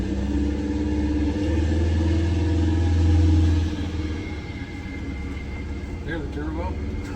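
Prevost bus engine with a little throttle, its turbo adding a steady low rumble and faint whine that swells around mid-clip then eases back, heard close under people talking.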